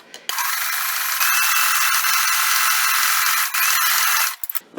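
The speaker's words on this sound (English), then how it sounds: "now I'm going to turn and just sew the whole way down." A sewing machine stitches a quilt block, running as a close, continuous buzzy whir for about four seconds, with a brief dip midway, then stopping with a few short clicks.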